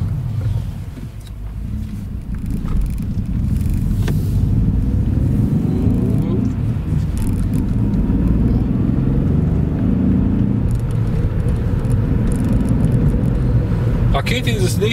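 A Ford Transit Courier van drives along, its engine and road rumble forming a steady, loud low drone heard from inside the cab, with someone talking over it.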